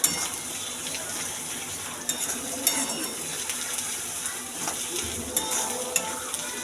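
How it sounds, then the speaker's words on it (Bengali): Ginger garlic paste fries in hot oil for a prawn curry, a soft continuous sizzle with occasional clinks and scrapes of a spoon stirring in the pan, fairly quiet and close. "আদা রসুনের পেস্টটা আগে দেবো একটু, তাতে একটু কাঁচা গন্ধ চলে যাবে।"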